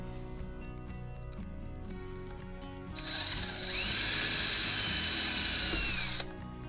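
A power drill whirs steadily, then bites into wood with a louder, rougher whine for a few seconds before stopping.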